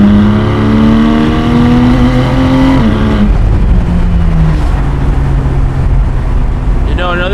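A loud 2024 Porsche Boxster GTS 4.0 engine revs up in sport mode through rising pitch, drops at a gear change around three seconds, then keeps pulling hard at close range.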